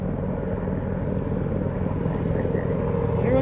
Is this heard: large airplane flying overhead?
yes